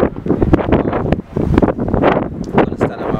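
Outdoors in Birmingham City, near a library, wind buffets the microphone with loud, continuous rumbling gusts that surge and dip briefly.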